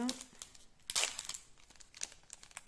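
A Pokémon card booster pack from a Scarlet & Violet Journey Together Elite Trainer Box is torn open with a few sharp crinkling rips close by, under a quiet voice.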